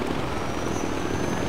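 Helicopter in the video game Far Cry 4, a loud, steady rotor and engine drone that fills the whole sound with constant dense noise and no talking.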